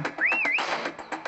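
The prop whistle from the Prop Hunt video game: a short, clear, rising-and-falling whistle tone, close and fairly loud, surrounded by brief chirpy game sounds.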